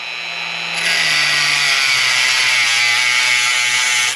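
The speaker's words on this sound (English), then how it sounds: "And you're going to use a cutoff wheel." Abrasive cutoff wheel on a power tool grinding into a steel bolt to cut a slot, a loud steady high-pitched whine that holds for several seconds after a quieter spin-up, close by with no talk.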